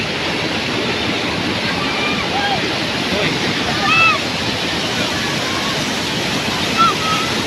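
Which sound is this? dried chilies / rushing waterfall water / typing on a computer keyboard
rushing waterfall water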